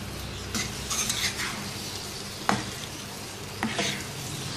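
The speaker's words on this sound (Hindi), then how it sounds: "अब इसको कुक करना है जब तक कि ये जो योगर्ट है ये ड्राई ना हो जाए।" Yogurt mixture cooking down in a pot for a restaurant-style reshmi paneer handi, with a steady low sizzle broken by a few sharp scrapes and stirring knocks, no talk.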